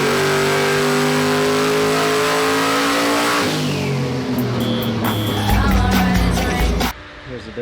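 A turbocharged LS V8 in a Foxbody Mustang, tuned on 93 octane pump gas, revs hard and loud under load, pitch climbing then dropping off as the run ends, with a voice speaking over it.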